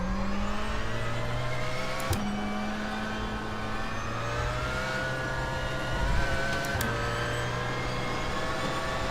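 Porsche 919 LMP1 prototype race car at full throttle in iRacing, a loud sustained engine roar with steady harmonic whine and a couple of brief gear-shift breaks, no talk.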